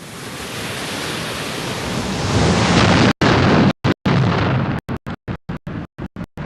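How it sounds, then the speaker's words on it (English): A volcanic eruption blast makes a loud, continuous broadband roar that swells gradually, then breaks off into abrupt on-off bursts near the end. "These erupt when magma below forces its escape."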